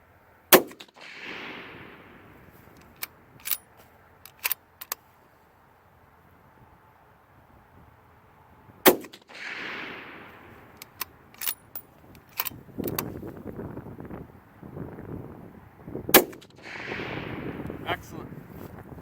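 Several sharp, loud rifle shots from a 6.5 Creedmoor fitted with a JP recoil eliminator, spaced seconds apart with echoing tails, interspersed with clicks and handling noises and some talk.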